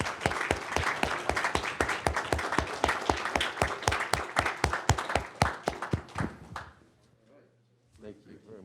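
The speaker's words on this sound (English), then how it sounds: "Let's have a round of applause for them." Applause for newly ranked Eagle Scouts at a board meeting: a small group claps in sharp, distinct strokes for about six seconds, then fades out, leaving a quiet room and a brief voice.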